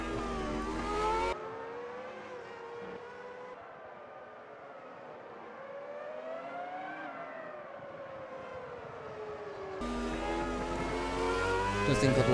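A 1996 Formula 1 car racing in the sim game Automobilista 2, its high-revving engine whining continuously and rising and falling in pitch through gear changes, louder at the start and end, with no talk over it.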